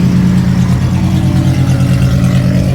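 A VW Mk2 Jetta coupe race car idles while warming up for testing at Sebring, its engine giving a loud, steady, low rumbling throb with a slight pulsing rhythm throughout.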